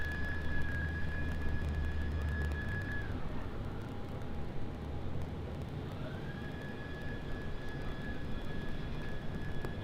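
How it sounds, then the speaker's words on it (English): A BAe 146-300 arriving at Sydney Airport at night: a steady, broad jet roar holds throughout with faint high whines rising and falling, heard from a distance without talk. "And this arrival is going to be QF7221 arriving in from Adelaide. It's going to be a Bay 146-300."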